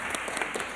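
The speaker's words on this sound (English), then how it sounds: "one last applause for the panel members and the session" Brief applause from a conference audience thanking the panel members at the close of a European Agency meeting session on special educational needs and inclusive education, a thin, quiet patter of scattered hand claps.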